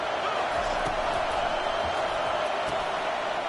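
A stadium crowd at a college football game roars as a dense, steady wash of voices that holds loud and constant throughout, heard from within the stands, with no single voice standing out.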